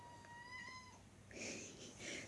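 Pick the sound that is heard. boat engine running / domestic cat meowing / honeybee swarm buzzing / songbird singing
domestic cat meowing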